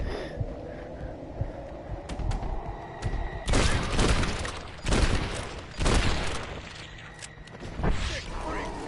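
Gunfire sounds in Red Dead Redemption: Undead Nightmare, several loud bursts of shots and booming impacts come in clusters among quieter game ambience, with a voice talking over the action.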